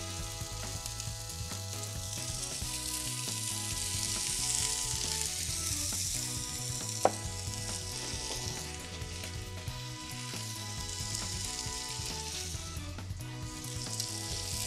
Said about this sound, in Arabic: نشوي سقفة الدجاج عم نحمرها